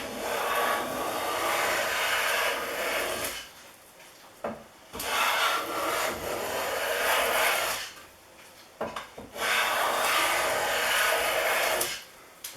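An older Stanley Sweetheart No. 19 block plane shaves a 3/4 inch piece of pine, producing long, smooth hissing strokes close by, three main passes separated by brief quiet gaps and small knocks, no voices.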